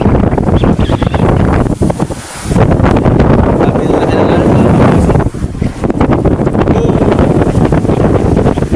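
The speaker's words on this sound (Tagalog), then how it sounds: "Malakas pa ang hangin." Strong wind roars and buffets the microphone over crashing sea, loud and relentless, with voices faintly mixed into the noise.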